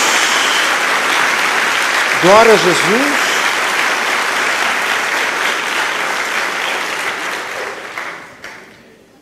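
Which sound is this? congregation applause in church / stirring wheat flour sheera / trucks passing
congregation applause in church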